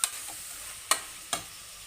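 Vegetables and tomato frying in hot oil for dal khichdi, a steady soft sizzle broken by three sharp stirring scrapes, close and alone.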